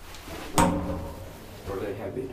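An old Kone in-ground hydraulic freight elevator's heavy door shuts with one loud, close bang, then rumbles on briefly while people talk around it.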